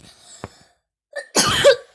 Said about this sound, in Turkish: öksürdüğümden dolayı özür dilerim